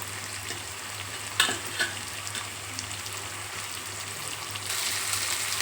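Tomato pieces frying with browned onions in a curry pan, a steady close sizzle with a couple of sharp utensil clinks early on and a low background hum.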